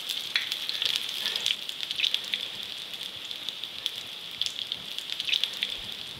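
Clam fritters deep frying in hot oil at about 350 to 375 degrees, a steady bright sizzle with scattered crackles and pops, close and continuous with no talking.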